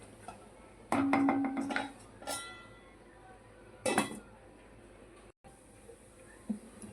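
A cooking pot lid lifted off a pot of yogurt chole gravy: bright metallic clinks and rattles in two short clusters, fairly close, with quiet stretches between them.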